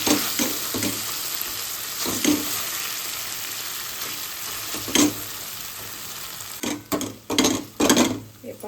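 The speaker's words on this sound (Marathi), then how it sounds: "तर मी हे स्मॅशरने स्मॅश करून घेते" Roasted tomatoes and boiled garlic mashed with a masher for tomato chutney, giving a handful of soft, squelchy thumps and scrapes against a pan, clustered in quick bursts near the end over a faint steady hiss.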